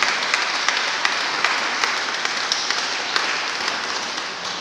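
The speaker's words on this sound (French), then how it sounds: "Veuillez les applaudir" Applause from a church congregation at a Sunday Mass for couples marking 50 years of marriage, a steady, dense wash of many hands clapping with a few sharper claps standing out, sustained throughout.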